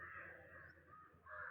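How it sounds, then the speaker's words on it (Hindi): A bird caws outside a room, two harsh calls at moderate distance with a short gap between them, against quiet indoor background. "कोई चिड़िया की चहकने की आवाज है"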